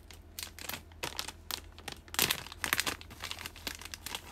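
Plastic bag of gummy candy crinkled and torn open by hand, a close series of sharp crackling rustles in irregular bursts, loudest midway, with no speech.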